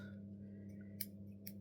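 Small snip scissors with a glittery cover are handled, giving two faint, crisp snips about half a second apart over a low, steady indoor hum.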